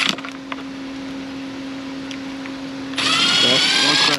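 A power tool removes a valve cover bolt on a Mercury Verado outboard, a loud, close whirring burst lasting just over a second that follows a quiet, humming stretch.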